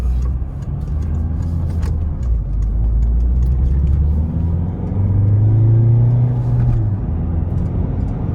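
A Peugeot 407 coupé HDi diesel engine hums and rumbles steadily from inside the cabin, rising slightly in pitch as it pulls along at a moderate pace.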